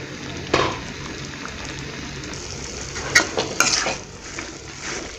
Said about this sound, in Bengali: তো নেড়ে চেড়ে দিচ্ছি